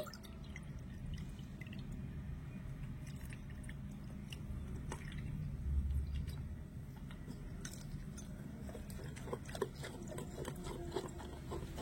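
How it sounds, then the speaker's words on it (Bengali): Water poured into a bowl of semolina dosa batter and stirred in, giving soft, wet squelching and dripping sounds that continue steadily and quietly at close range with no talking. "তো এখানে আমি আরেকটুখানি জল দিয়ে দেব।"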